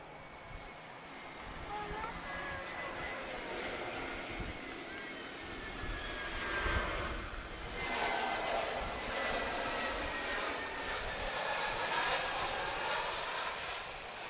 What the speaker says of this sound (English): we have an A320 EasyJet Europe, arriving from Paris